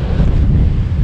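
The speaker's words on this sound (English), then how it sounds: "It's very, very windy." Strong wind buffets the microphone by the sea, a steady roaring rumble of gusts with a hint of surf beneath, loud and close, with no voices.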